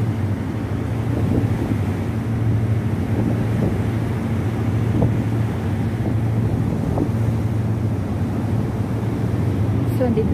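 A ferry ride to Discovery Bay with a steady low engine drone and rushing wind buffeting the microphone, a constant loud rumble from start to finish, with a voice talking faintly under it.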